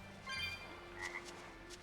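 Frogs croaking in the Tales of Berseria video game, a few faint, brief croaks over quiet game ambience.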